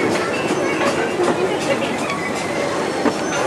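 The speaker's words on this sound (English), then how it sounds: "I was trying to chase the train." Small tour train rolling around the Paultons Park amusement park, a steady broadband rumble with faint wheel clatter and squeal, people chattering over it throughout.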